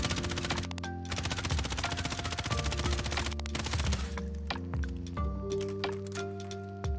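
An M13 rifle fires in Warzone Pacific, a loud sustained automatic burst for about four seconds, then a few shorter bursts and clicks over background music.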